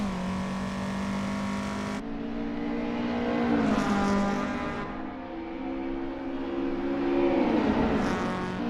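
Fiat 128 Abarth GR2 race car on track, its engine droning loud and steady at high revs, pitch sliding up and down through gear changes and shifting as it passes close by.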